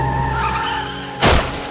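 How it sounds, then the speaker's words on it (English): A car's engine runs steadily, then a brief loud skid and crash as it hits a tree, close and sudden, with no voices. "Suddenly, his car hits a tree."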